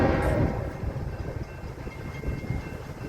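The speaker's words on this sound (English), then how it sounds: "here comes our first train of the day" A CSX train approaches on the tracks at Folkston, Georgia, a steady low rumble building from a distance with faint rail clatter, no talk.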